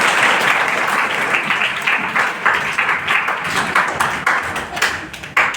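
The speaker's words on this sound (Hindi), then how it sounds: "ताली बजाइए" Children clapping together in a classroom, dense continuous applause that holds loud and even throughout, with a few voices faintly mixed in.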